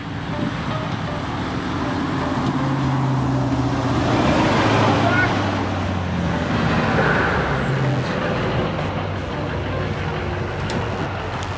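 A car comes up from behind a cyclist on a road near an expressway, its traffic rumble swelling and fading over several seconds amid steady wind and road noise, with a voice talking over it.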